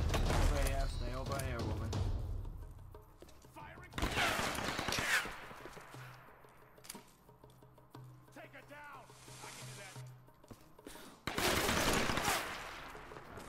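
Gunfire bursts from the Tomb Raider video game, loud broadband volleys near the start, around four seconds and again near the end, with someone talking over the shooting between bursts.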